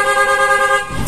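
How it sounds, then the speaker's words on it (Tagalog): A Sniper 155 motorcycle horn honks in one sustained, bright blast lasting about a second, steady and loud, ending abruptly. "Ito yung busina ni sir."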